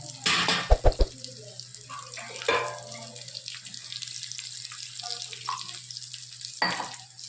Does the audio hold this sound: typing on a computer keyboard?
no